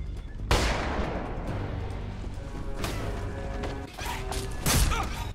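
Gunfire in a Ghost Recon Advanced Warfighter 2 co-op battle, with several sharp, loud shots and bursts over a continuous rumble of combat noise.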